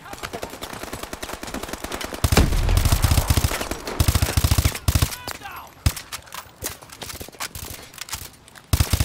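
Pistol fire in Call of Duty: Advanced Warfare, loud sharp shots cracking in rapid uneven succession throughout, with short bursts and brief pauses between volleys.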